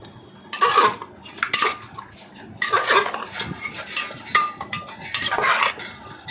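Metal spoon stirring and scraping mutton in a pot for biryani, a series of clanking, scraping strokes in uneven bursts, close and fairly loud, with no voices.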